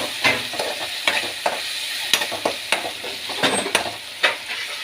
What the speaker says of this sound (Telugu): ఇప్పుడు ఇందులో టమాటా వేసేస్తాను